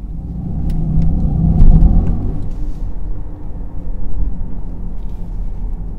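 A 2023 Mercedes-AMG EQE 43 electric car drives in Sport Plus mode with its powerful synthetic drive sound active, a low droning rumble that swells and eases as it accelerates, heard from inside the cabin without speech.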